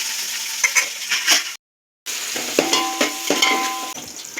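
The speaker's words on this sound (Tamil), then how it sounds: "இதில் இந்த நம்ம வந்து வெங்காயம் பச்சை மிளகாய் சேர்த்துக்கிறோம்." Onions and green chillies fry in a pan with cloves and bay leaf, producing close stirring scrapes and a crackling sizzle that breaks off briefly and then resumes.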